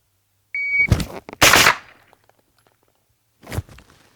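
A shooting timer gives one short, sharp electronic beep at a pistol-caliber carbine practice session. A loud burst of shots follows right away, with a pause and then another shot.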